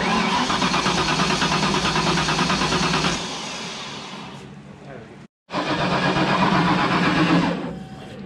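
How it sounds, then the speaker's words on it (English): A turbocharged car engine cranks over loudly and steadily without catching, stops briefly, then cranks again, close by. "It's spinning good, but it's not trying to catch."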